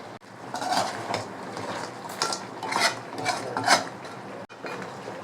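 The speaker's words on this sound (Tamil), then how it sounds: "இதை வந்து லேசாக கிளறி விட்டுக்கலாம் ஃப்ரெண்ட்ஸ்." A spoon clinks and scrapes against a metal pan while stirring crab masala gravy, a run of irregular rattling knocks and scrapes, close and fairly loud, with no voices.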